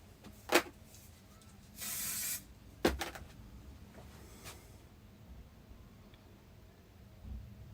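Spray glue hissing from a can in a short burst of about half a second, close and fairly loud, set among scattered handling clicks and knocks.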